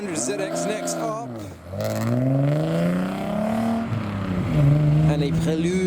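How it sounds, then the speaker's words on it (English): A modified Nissan 300ZX pulls away from a car show, its engine revving and rising in pitch through gear changes close by, loud and sustained, with crowd noise around it. "We have a 300ZX next up,"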